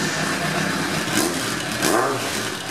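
A Suzuki motorcycle engine runs loud and close with a rough, continuous mid-range roar, swelling slightly in two brief revs after starting.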